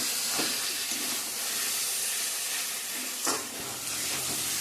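Chicken pieces sizzle and hiss as they are sautéed in a pan for a curry, a steady frying crackle broken by a few stirring scrapes, with no voices.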